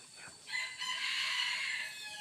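A single rooster crow rings out over a hunting ground where a decoy rooster is set for wild fowl. It is faint and somewhat distant, rising and holding for about two seconds.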